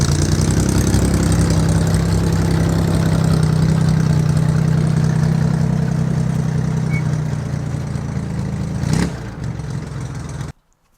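A vehicle engine fitted with Rochester carburetors that has just started hard settles into a loud, steady idle with a low rumble, then sputters briefly before cutting off near the end. No one speaks.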